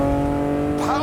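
A Ferrari Testarossa's flat-12 engine holds a loud, steady droning note with strong harmonics, climbing sharply in pitch near the end as it revs out, with a voice speaking over it.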